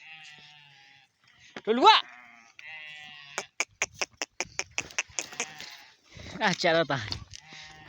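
Sheep bleat twice, a loud quavering cry up close and then a longer one near the end, while people talk in Hindi, with a run of short rhythmic clicks or taps between the calls.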